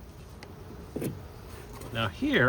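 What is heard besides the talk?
honey bees buzzing in a beehive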